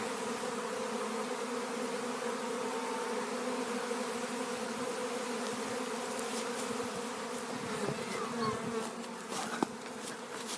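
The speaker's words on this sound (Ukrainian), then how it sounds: "От така маса бджоли." A dense, continuous buzz from a swarm of honeybees, steady and close, with a few faint knocks and rustles near the end.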